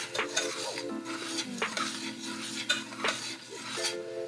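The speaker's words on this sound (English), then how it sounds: "I'll keep stirring." Cranberries are stirred in a shallow pot on the stove, with a steady bubbling sizzle, scraping strokes and occasional clinks of a utensil against the pan, close and without speech.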